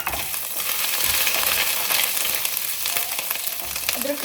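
Cumin, ginger and green chilli sizzle in oil in a pan, a steady bright frying hiss with faint stirring scrapes, loud and close with no talk.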